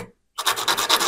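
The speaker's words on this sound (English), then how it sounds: "use a little bit of sandpaper and prepare the connections" Sandpaper rubs back and forth over solder connections on a subwoofer filter board, a close, steady scratchy rasp with a quick repeating rhythm after a brief moment of silence.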